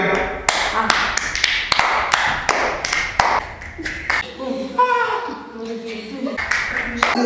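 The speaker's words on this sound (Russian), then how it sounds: "Хлопаем." Sharp, rhythmic claps ring out in a steady beat, then give way to a voice speaking with a few scattered claps underneath.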